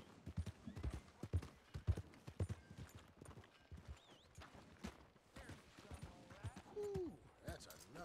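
Horse hooves in a video game, Red Dead Redemption 2, clip-clop in a steady rhythm, close and clear, with a brief whinny near the end and voices talking under it.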